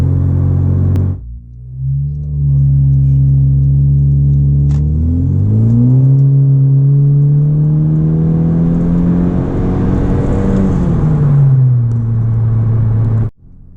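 Interior drone of a turbocharged Honda Civic with a 3-inch straight-pipe exhaust, heard from inside the cabin. A loud, steady engine hum rises in pitch as the car accelerates, holds, then eases down before cutting off abruptly, with no one speaking.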